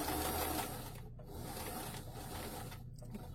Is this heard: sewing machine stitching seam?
yes